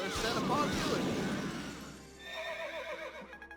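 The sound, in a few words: horse neighing in Fire Emblem Awakening video game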